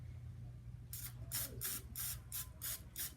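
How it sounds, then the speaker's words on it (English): Cooking spray from an aerosol can misted over a balloon in a series of about seven short hissing bursts, close and fairly loud over a low background hum. "use your cooking spray"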